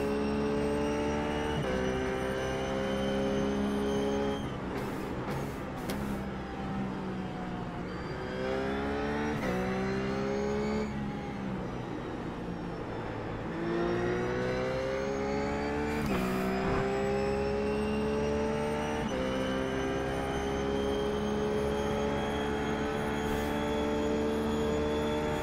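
RUF GT3 race car engine in iRacing at the Nurburgring Grand Prix, loud and continuous, rising through gears with sharp upshift breaks and falling on downshifts, heard from inside the car with no talk.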